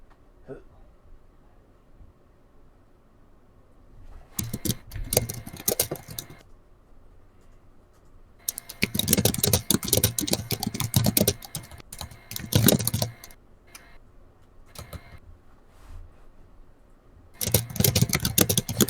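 Loud clattering on a computer keyboard comes in dense bursts with quiet gaps between them, close to the microphone, set in a quiet room before a game stream starts.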